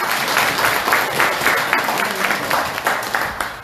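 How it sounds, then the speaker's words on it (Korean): Applause from residents at a township community briefing in Korea, a close, lively burst of many people clapping with a steady rhythm, filling the short clip without any talk. "박수 한번 보내주시죠"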